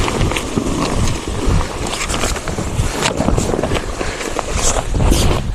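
Strong gusting wind buffets and rattles a tent during a severe storm, a loud, continuous roar with flapping bursts and rustling throughout and no talk.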